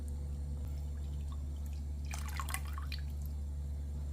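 Milk is poured into a pan on a stove for a homemade lasagna, a soft, faint trickle and splash lasting a couple of seconds over a steady low kitchen hum.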